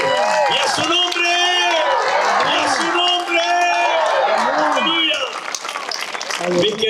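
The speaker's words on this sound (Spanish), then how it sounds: "Fuertes aplausos al Rey de Reyes" A church congregation claps loudly while voices shout and call out over it, a lively mix of applause and exclamations that dips briefly near the end before swelling again.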